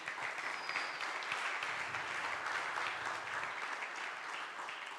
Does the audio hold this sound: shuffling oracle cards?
no